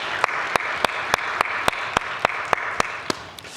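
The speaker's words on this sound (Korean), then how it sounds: "우리 하나님 앞에 영광의 박수 올려드리십시다" A church congregation at a Sunday worship service claps in a steady, even rhythm, about three or four sharp claps per second, moderately loud with no talking over it.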